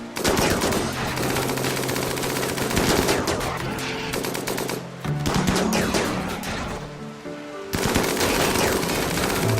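RimWorld combat gunfire with dense machine-gun bursts and rapid overlapping shots that run loud and nearly continuous, pausing briefly twice before resuming.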